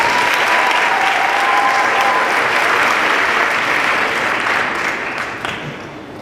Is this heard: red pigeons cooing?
no